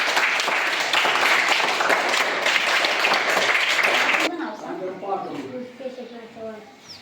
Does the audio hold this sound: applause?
yes